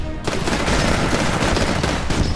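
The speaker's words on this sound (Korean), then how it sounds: "누가 나 계속 쏘는데?" Dense, rapid gunfire during Titanfall beta gameplay, with overlapping bursts of automatic shots forming a loud, continuous barrage with no gaps.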